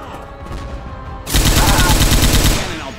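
Dense, rapid gunfire from Left 4 Dead 2 bursts in loudly after a brief lull, sustained automatic shots layered over game noise during a zombie co-op mutation match, with a voice heard faintly beforehand.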